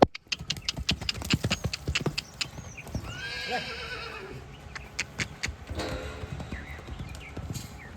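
A horse whinnies loudly and close by, midway through a stretch of rapid, uneven hoofbeats clopping on hard ground.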